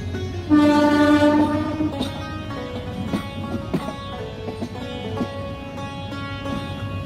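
The Brahmaputra Express waits for another train to pass, with a loud sustained horn blast at the start, followed by rumbling, clattering rail noise and further tonal horn or whistle sounds close by.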